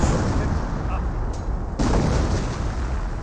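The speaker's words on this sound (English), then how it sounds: "And now let's get another creepy barrage." Artillery barrage in the Company of Heroes strategy game: a dense, continuous roar of booming shell impacts and rumble throughout, loud and close, with a brief dip partway through and a game voice faintly present.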